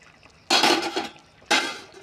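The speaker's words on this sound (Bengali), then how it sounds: "এখন ডাকনা উঠে দিই" A lid lifted off a pot of Bengali fish curry with potato and drumstick: two bright metallic clinks with a short ringing tail, the second about a second after the first, close and fairly loud.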